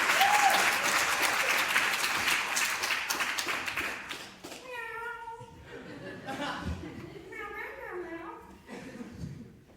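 Performer on a theatre stage meowing like a cat, a voice imitating several rising and falling meows after a burst of loud audience applause and laughter.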